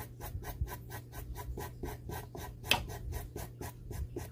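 A worn emery board rasps back and forth on a decoupaged recipe box in a steady rhythm of about a dozen quick, close scraping strokes, with no talk.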